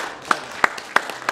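Sparse applause for the organizers of a winter orienteering race, four distinct claps spaced evenly at close range over a quiet background.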